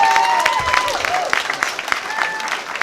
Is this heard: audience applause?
yes